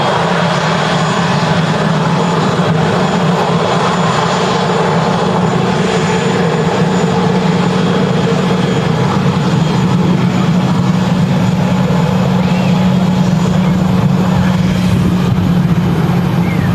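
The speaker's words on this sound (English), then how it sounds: "This EasyJet in from Reykjavik." An easyJet airliner arriving at Manchester Airport from Reykjavik roars loudly and steadily, a sustained heavy engine drone with a low hum that holds constant throughout.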